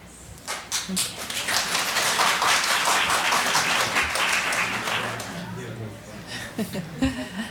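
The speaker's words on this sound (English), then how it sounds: "That's clapping." Audience members at a Temple City council meeting clap for several seconds, a dense burst of close applause that builds, holds, then thins into a few scattered claps as voices return.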